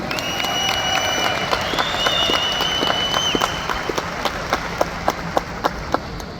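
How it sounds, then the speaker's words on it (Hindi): Loud audience applause at an achievers' meet in Jaipur, dense steady clapping with some whistles and cheering, sharp individual claps standing out toward the end. "क्या इन सभी 1800 अचीवर्स के लिए एक जोरदार राउंड ऑफ तालियां हो जाए।"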